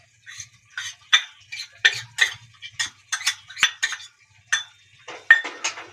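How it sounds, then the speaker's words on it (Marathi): A spoon scraping and clinking against a pan while carrot halwa is stirred with mawa, an irregular series of close metallic taps and scrapes with no talk. "चांगलं मिक्स करून घेऊया."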